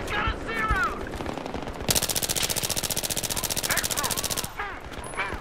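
Rapid automatic gunfire from the Battlefield 3 video game, a loud sustained machine-gun burst of about two and a half seconds with steady rhythmic shots, framed by brief calls and other game sounds before and after.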